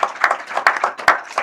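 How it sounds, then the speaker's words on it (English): An audience applauds at an event honouring a sports goods manufacturer, a steady patter of many hands clapping together, fairly close and loud, with no voices over it. "let us really give him a round of applause"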